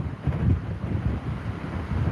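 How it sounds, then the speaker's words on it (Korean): Typhoon winds batter the Jeju coast at rising high tide beside a white lighthouse, with gusty wind buffeting the microphone over a low rumble of surf, a continuous roaring wash that swells and eases. "지금 만조 계속 물 들어오고 있어가지고 만조되면은 조금 더 파도가 심해질 것 같아요"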